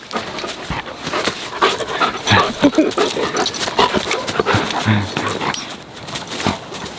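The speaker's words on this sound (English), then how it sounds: "That is just one of our mini dogs" A small dog whimpers and pants close by in an outdoor summer garden, with rustling and movement throughout and a person talking over it.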